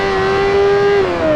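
A racing car's engine holds a loud, sustained high whine in Project Gotham Racing 4, pitch steady and then dropping slightly near the end. It sounds close and runs continuously, with no voices.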